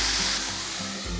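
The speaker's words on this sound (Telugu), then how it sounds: "ఈ ఉల్లిపాయలు బ్రౌన్ కలర్ వచ్చే వరకు వేయించుకోవాలి" Finely chopped medium onions sizzle in hot oil for a pea curry, a short, steady, hissing fry with no voices.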